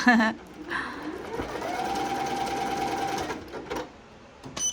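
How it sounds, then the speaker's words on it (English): A multi-needle embroidery machine shifts from needle 1 to needle 2 and lowers its needle, running unthreaded; a steady mechanical whir and hum lasts about three seconds, with clicks and faint talk at the start and end. "It should move to needle 2 and then the needle should be coming down. There it goes."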